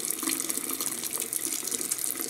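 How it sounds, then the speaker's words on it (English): Makeup brushes held a few at a time, tips down, under a running tap, steady close splashing water with a bright, continuous hiss and no talk. "Okay, so I just run them under the water."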